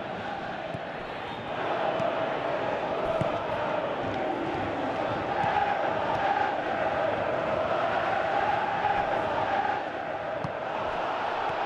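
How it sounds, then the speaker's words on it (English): Virtual stadium crowd in PES 2017 during a recreated 1994 World Cup match between France and Mexico, a steady broad roar with a swell of applause and cheering that rises after the first second and holds at a fairly loud level. "Crowd appreciates good football all round there"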